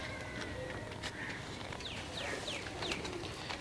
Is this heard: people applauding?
no